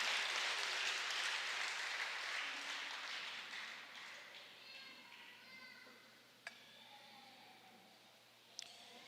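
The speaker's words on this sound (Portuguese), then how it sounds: "Pode aplaudir ao Senhor," A church congregation applauds in a broad, noisy wash that gradually thins and fades. Faint voices and a couple of sharp knocks follow near the end.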